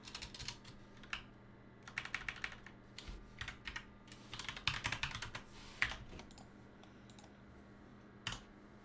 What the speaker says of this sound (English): We're going to type this in our notes.